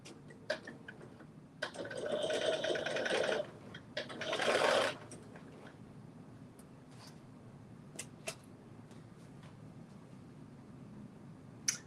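A sewing machine runs a regular-length straight stitch along a 5/8 inch seam, in two close bursts of steady mechanical whirring, the second shorter, followed by quiet with faint ticks.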